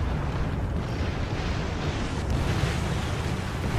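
A bomb blast in a flight combat video game makes a dense, roaring, low rumble that stays steady and loud throughout, with no voices over it.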